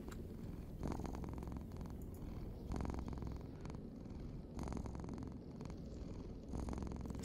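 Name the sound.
cat named Things purring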